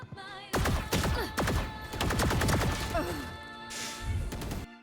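Gunshots from the video game Valorant ring out in a quick, clustered series of sharp cracks and impacts over a few seconds, fairly quiet overall, with no talking.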